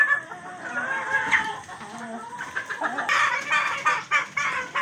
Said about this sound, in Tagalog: pinakain ko na yung mga manok natin dito